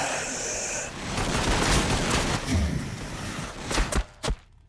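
Ork gunfire in a Warhammer 40,000 battle game, Orks against Necrons: a dense, continuous rattle of shots that runs for several seconds, then breaks into a few separate heavy thumps before fading out.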